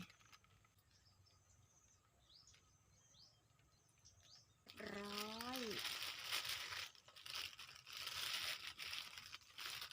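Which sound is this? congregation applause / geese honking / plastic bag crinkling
plastic bag crinkling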